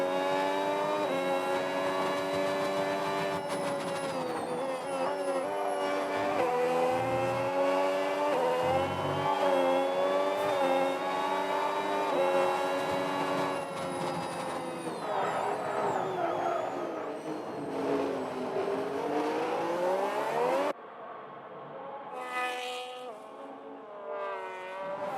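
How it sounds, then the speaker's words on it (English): F1 race cars at the Canada GP in an F1 sim racing game, including a Red Bull and a McLaren, high-pitched engines screaming steadily with rising and falling revs as gears shift, loud from onboard, ending in a brief quieter passage. "Let's listen into the race, the sounds of the race with Gamer on board"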